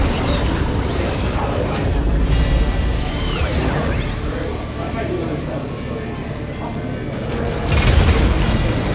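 Heavy booms and rumbling blasts of gunfire and explosions in a low-light ghost-town VR shootout game, rolling continuously with a loud burst near the end while people talk over it.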